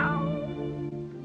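A cat meows in a film scene, giving one drawn-out, tonal, fairly loud meow up close that fades slowly.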